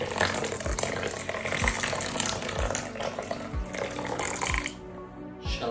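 Boiling water is poured onto dry bulgur in a kitchen, a continuous splashing gurgle with rhythmic low glugs that thins out and drops away near the end.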